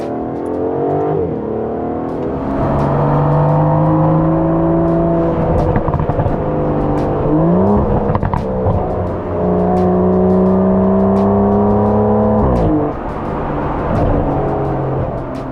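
A powerful Aston Martin V12 engine runs and revs, its tone rising through gears and dropping again, loud and close with a smooth, deep growl.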